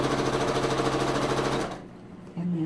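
A sewing machine stitches half log cabin quilt block pieces in assembly-line fashion, a fast, loud, even mechanical chatter that stops briefly and then starts up again.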